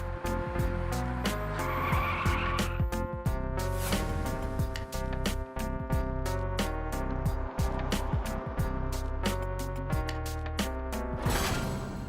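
Car tires skidding and squealing as a vehicle brakes to a stop, over rhythmic music with sharp percussive hits and sustained tones throughout.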